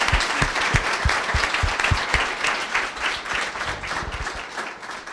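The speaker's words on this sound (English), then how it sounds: "Please give our panel a round of applause." An evening audience at a Women in HR networking event claps steadily for a panel, with dense, sustained applause that softens slightly toward the end.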